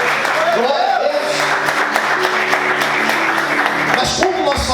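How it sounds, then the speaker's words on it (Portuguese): A church congregation applauds during a sermon, a wash of many hands clapping at moderate distance while a voice talks and sings over it, with a rising shout near the end. "Você pode aplaudir ao Senhor, aleluia"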